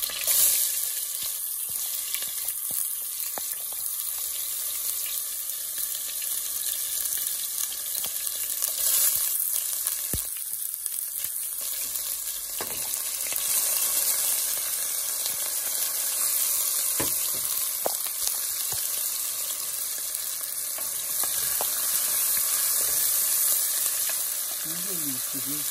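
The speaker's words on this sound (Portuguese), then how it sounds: "agora eu vou colocar o alho e o gengibre para refogar" Garlic, ginger and onion sautéing in half a cup of oil, a dense, continuous sizzle heard up close for a long stretch, with occasional stirring scrapes and clicks.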